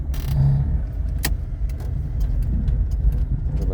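A Zastava 1100p car pulls away with a steady low engine rumble throughout, a brief clink early on and faint ticks and rattles over the drone.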